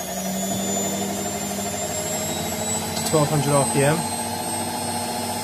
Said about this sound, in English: So this is a motor test.